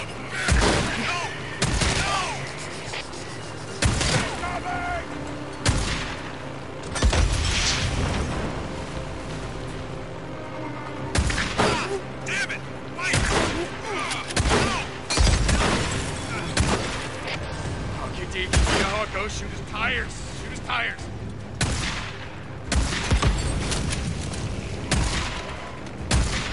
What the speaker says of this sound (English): Lever action shotgun.